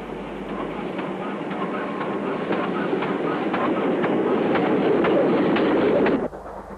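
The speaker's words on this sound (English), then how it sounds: "the 8-mile climb to Talerdigg begins, where we find Foxcote Manor arriving with an up service to Oswestry." GWR Manor class steam locomotive Foxcote Manor hauls an up passenger train onto the eight-mile climb to Talerdigg, a steady loud rumble of wheels and carriages with rhythmic rail clicks, close by, ending abruptly.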